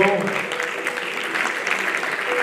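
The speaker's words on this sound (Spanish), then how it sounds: "Fuertes aplauso" Steady applause from an audience at a mountaineering federation awards gala, a dense sustained clapping that fills the room from start to finish.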